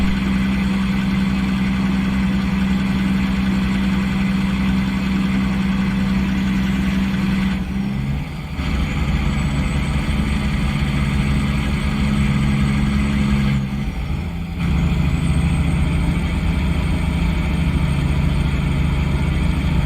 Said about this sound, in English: Got a relatively small engine in this at the moment. It's a 550 horsepower.